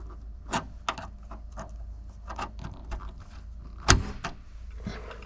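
A remote central locking actuator on a classic car door gives a few sharp mechanical clicks and clunks in a quiet workshop, with one louder snap near the end.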